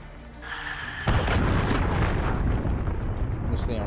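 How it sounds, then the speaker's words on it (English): A cruise missile detonates in the Modern Warfare game, a heavy booming blast that swells into a sustained loud roar of rumbling explosions. "Enemy cruise missile incoming!"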